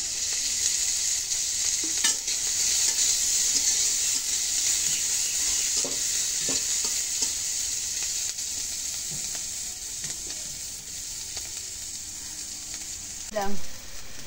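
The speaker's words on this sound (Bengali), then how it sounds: "তেলের মধ্যে কষানি করে নেই।" Chilli and onion frying in hot oil in a wok: a loud, even sizzle throughout, broken by a few soft stirring scrapes and a brief faint voice near the end.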